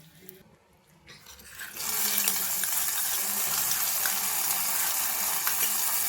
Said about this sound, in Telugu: పోపు రెడీ అయిపోయింది, చట్నీలకు వేసేసుకుందాం